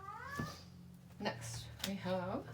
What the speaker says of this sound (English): Sorry about the cat meowing.